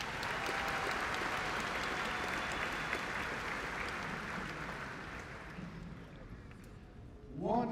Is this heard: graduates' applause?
yes